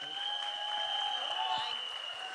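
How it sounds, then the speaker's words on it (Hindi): Steady audience clapping at a Bollywood film trailer launch event, heard from a distance and fairly quiet, with a thin, high sustained tone hanging over the crowd. "ताली बजा के दिखा दीजिए।"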